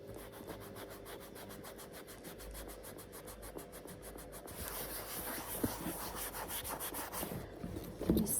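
A cloth rubbed over a leather Mulberry Alexa handbag during cleaning, giving a soft, steady scrubbing swish in quick repeated strokes, fairly quiet, becoming a broader rushing rub toward the end.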